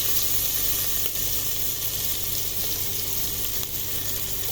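Ginger frying in hot oil in a pressure cooker gives a steady, close, loud sizzle that holds without a break throughout.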